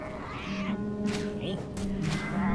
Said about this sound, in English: that's why I'm killing cats now